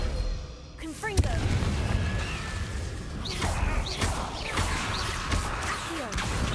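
Hogwarts Legacy video game combat with the Confringo explosion spell: whooshing casts and sharp booming blasts go off repeatedly over a busy backdrop of game effects, close and loud.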